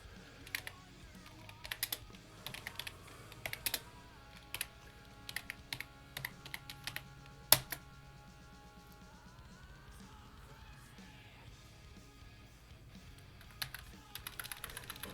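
Typing on a computer keyboard into a Linux terminal, bursts of sharp key clicks in an uneven rhythm with pauses between, close and clear in a quiet room.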